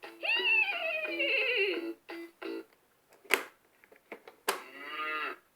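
A talking bilingual Fisher-Price baby activity table voices a cow, drawing out a long lowing moo, followed by a few short sounds and a second drawn-out moo.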